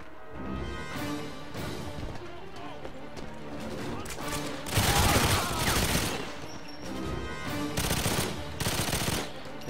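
Rapid bursts of automatic gunfire in GoldenEye 007 Reloaded on PS3, with loud sustained volleys swelling midway over a bed of game music and effects.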